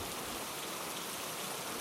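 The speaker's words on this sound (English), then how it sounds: "It is raining hard." Heavy rain falls on a lonely countryside scene, a dense, even hiss of pouring water that holds steady throughout with no voices.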